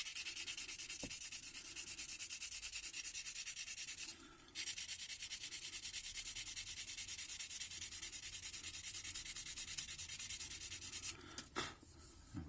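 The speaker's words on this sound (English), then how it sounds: "I'll just give that body another wee rub." Steady, close rubbing of a reed stepped waggler float body, a continuous dry abrasive swish that runs for several seconds, broken by a brief pause and a few scuffs near the end.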